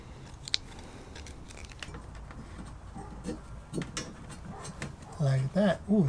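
Material being trimmed for an LED dome light mount on a Molle panel, a series of small snips and clicks close by, followed by someone talking near the end.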